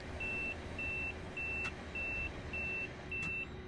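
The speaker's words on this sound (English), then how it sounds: "What is that beeping?" Repeating cab warning alarm in Train Simulator Classic: evenly spaced, high-pitched pulses of tone, about six of them, sounding over a steady rumbling drone of the moving train.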